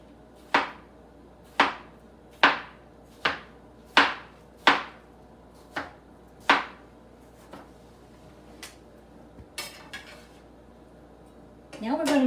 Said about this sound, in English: So we're going to slice up the cucumbers as thin as we can.